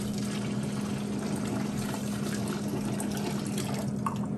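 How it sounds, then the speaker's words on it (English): Close, steady rush of water pouring out of a jar in a continuous stream for a few seconds, with no voices. "To pour out the water"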